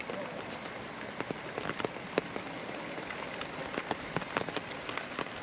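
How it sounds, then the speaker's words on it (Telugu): Steady rain patters on surfaces near a bridge, with scattered louder drops tapping irregularly over a constant soft hiss. "పెరుగుతూ ఉంటుంది వర్షం, పెరుగుతూ ఉంటుంది"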